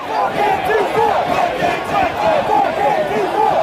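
A dense crowd of protesters chants loudly in rhythmic, repeated phrases at the January 6 riot, many voices rising and falling together in a steady cadence close to the recorder.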